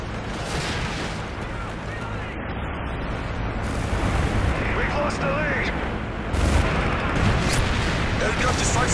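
Grenade blast and gunfire in Modern Warfare 3, a dense roar of explosions and rapid shots filling the whole clip, with louder bursts toward the end.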